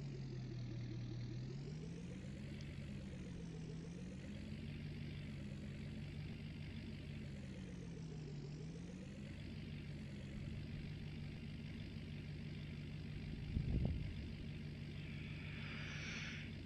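A truck engine in Farming Simulator 19 idles and drives at a steady low drone, pitch rising and falling gently as it revs, with a brief knock near the end.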